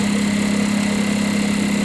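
A sewing machine chain-piecing quilt pieces hums in a loud, steady motor whine with a fast, even stitching buzz, close and uninterrupted, with no voices.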